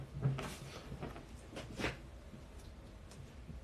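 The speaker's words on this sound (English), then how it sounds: "let me close the door" A door is pulled shut indoors with a few soft knocks and rattles followed by a firmer closing bump, fairly faint and close.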